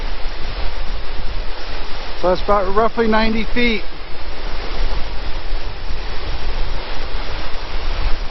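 A roughly 90-foot waterfall roars steadily nearby, a loud unbroken wash of rushing water with someone talking briefly over it.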